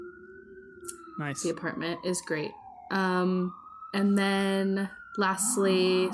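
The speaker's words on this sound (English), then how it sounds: "sorry for the sirens, everyone." Emergency vehicle sirens wail outdoors in New York, a long continuous tone sliding slowly downward behind people talking nearby, the siren steady and moderately loud throughout.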